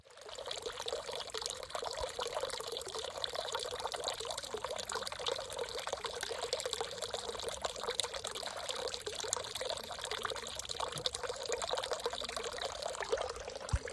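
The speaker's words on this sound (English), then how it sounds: "I have some babbling brook audio from a temple that we visited in Kyoto" Babbling brook at a temple in Kyoto, a steady, close rush of trickling and splashing water that runs continuously without pause, with no voices.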